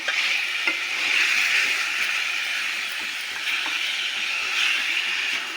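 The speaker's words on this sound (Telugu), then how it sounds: "చికెన్ అయితే ఆయిల్లో వేసుకున్నాం కదా సో దీన్ని మంచిగా కలిపించుకుంటాము" Chicken pieces frying in hot oil sizzle loudly and steadily while being stirred, with occasional scraping taps of the spoon against the pan throughout.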